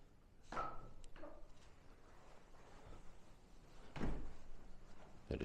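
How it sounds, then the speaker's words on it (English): A heavy door of the Priory Church of St Bees, Cumbria, swings shut in a reverberant room, with a clunk and rattle early on and a louder thud a few seconds later. "Better shut the door."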